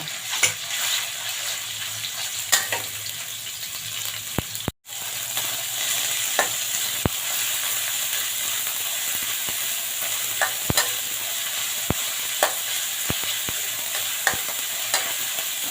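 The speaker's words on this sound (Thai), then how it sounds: "ผัดกระเทียมพอหอมนะคะ ใส่หมูสับใส่" Minced pork and garlic stir-frying in a hot pan for spinach stir-fry, a steady dense sizzle with scattered clicks of a utensil scraping and tossing throughout, close and continuous with a brief dropout near the middle.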